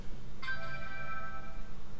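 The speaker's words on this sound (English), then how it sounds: "And there goes my phone." A mobile phone ringtone sounds once during a Diablo 3 gaming session, a clear electronic melodic tone lasting about a second over faint background hum.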